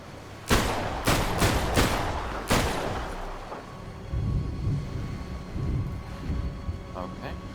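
Gunfire in the video game Death Stranding: a rapid burst of five sharp, loud shots in the first few seconds, followed by a rumbling, noisy game soundscape.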